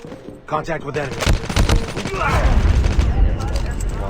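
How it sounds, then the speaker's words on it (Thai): Rapid machine-gun fire from a chopper in the video game Call of Duty Mobile, a loud sustained rattle that builds and stays dense, with booming impacts and voices speaking over the shooting. "มันเอาช็อปเปอร์ยิงอ่ะ"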